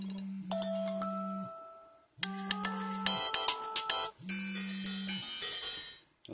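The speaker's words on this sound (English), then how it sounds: "they have added different ringtones for you guys to choose from" Three short iOS 7 ringtone samples on an iPhone 5 play one after another, each a tonal electronic melody of chimes and bright notes over a sustained low tone, with brief gaps between them.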